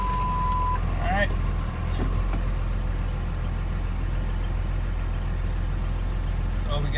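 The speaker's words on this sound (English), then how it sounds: "So we got steady idle." A 2006 truck converted to a Cummins diesel engine idles steadily, a constant low rumble filling the clip with a brief faint tone early on.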